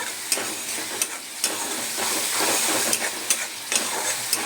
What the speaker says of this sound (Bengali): আমি এর মধ্যে হলুদ, জিরের গুঁড়ো, লঙ্কার গুঁড়ো দিয়ে ভালো করে পেস্ট করে আমি এটাকে কড়াইয়ের মধ্যে ছেড়ে দিয়েছি।